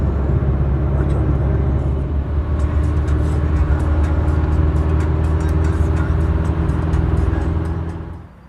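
An Opel Corsa 1.7 DTI diesel car drives steadily on the road toward Istanbul, its engine and road noise a continuous loud drone that holds evenly before fading out at the very end.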